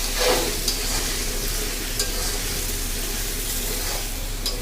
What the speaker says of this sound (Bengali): ডাল আর মাংস একসাথে কষাবো আমি।